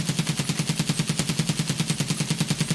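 SCAR-L rifle in the video game Escape From Tarkov firing on full auto, a fast, even burst of about twenty rounds in under three seconds, steady and loud with no talking.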